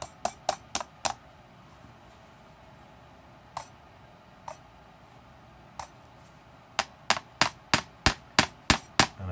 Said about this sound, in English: Get my big hammer